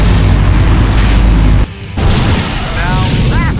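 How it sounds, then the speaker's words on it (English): A loud booming explosion in the video game Full Throttle Remastered, a heavy blast that cuts off abruptly into a brief lull before rumbling debris and chirpy effects follow. "Now that's an explosion, ladies and gentlemen."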